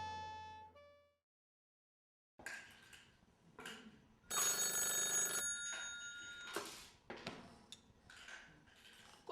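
A telephone rings at a police station, a sharp, bright ring heard once near the middle of the scene over faint background voices and rustling, with a short tone at the start.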